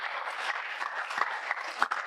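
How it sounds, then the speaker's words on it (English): Audience applause in a university auditorium after a student anchor is introduced at a mind-management talk, a steady dense wash of many hands clapping at moderate distance, fairly quiet, with no speech over it. "Give her a round of applause, please."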